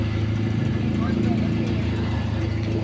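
A right-hand-drive Honda NSX idles close by, a low, steady, throbbing engine hum with talk over it.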